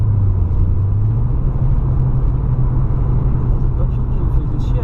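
A turbocharged BMW E36 318is engine runs steadily with a loud, constant low drone and rumble and no break in level. It is heard from close by.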